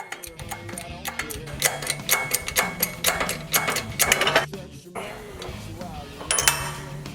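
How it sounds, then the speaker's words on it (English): Old bearing being pressed off the axle shaft of a Cletrac 20K crawler tractor's final drive, a busy run of clanking, ticking metallic knocks and mechanical rattles, fairly close and steady throughout. "Here we're pressing the old bearing off of the axle shaft."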